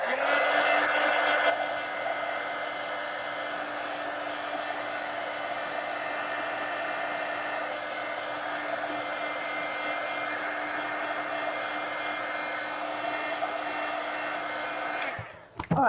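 Hair dryer drying paint on a Halloween adult coloring page, running as a steady loud whir with a constant hum that continues for about fifteen seconds before switching off.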